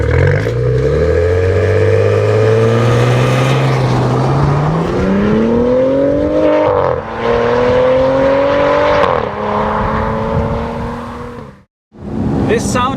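A 2013 Maserati Quattroporte S Q4 engine revs loudly and up close, climbing through several rising pulls with brief easing between them before cutting off sharply near the end.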